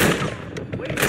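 Rapid gunfire in Call of Duty MW DMZ cracks out in a short, loud burst of quick shots, with voices mixed in.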